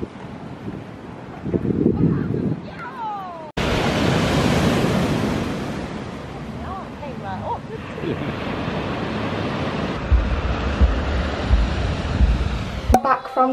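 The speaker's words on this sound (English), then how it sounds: "I've come down to the beach in Albufeira." Surf breaking on the beach at Albufeira, Portugal, on a warm New Year's Eve, a steady wash of waves with wind buffeting the microphone and a voice talking over it.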